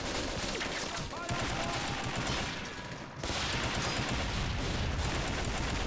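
Dense, continuous gunfire rattles through an Army Men winter battle video game, with rapid bursts and booming mortar-like blasts layered close and loud, dipping briefly before resuming.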